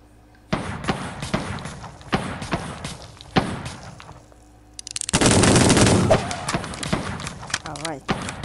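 Gunshots ring out in a western video game, several separate sharp reports followed by a denser burst of firing and thumps, close and loud against game background sounds.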